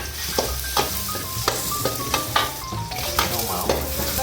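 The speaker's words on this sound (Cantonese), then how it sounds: "爆香呢個蒜米咯，蒜米同埋葱頭仔咯" Garlic and shallots frying in oil for a fish head curry, a steady sizzle broken by repeated sharp scrapes and knocks of a utensil stirring the pan, close and without talk.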